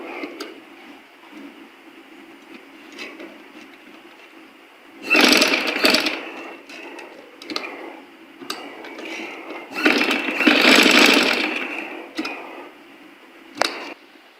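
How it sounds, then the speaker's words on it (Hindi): Sewing machine stitching cloth for a Quran cover, with two loud bursts of rapid stitching between quieter ticking and handling sounds. "सिलाई लगा लेनी है"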